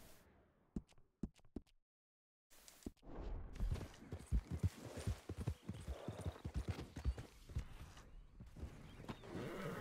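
A horse in Red Dead Redemption 2 trots with rapid, uneven hoof clip-clops close by, following a few isolated footfalls and a brief silence, with a faint whinny among the hoofbeats.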